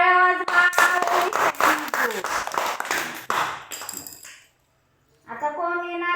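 Children clapping their hands in a lively burst of quick, close claps lasting a few seconds, with a voice heard around it, then a short silence before talking resumes.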